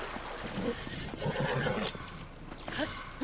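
A horse in Zelda: Tears of the Kingdom whinnies in a drawn-out, wavering call, fairly quiet against game ambience with a few faint hoof clops.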